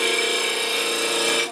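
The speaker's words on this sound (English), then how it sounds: "I'm using a spindle roughing gouge for this task." Spindle roughing gouge cutting wood on a lathe, a steady, loud, continuous rasping hiss with a faint rhythmic chatter underneath, close and unbroken until it cuts off at the end.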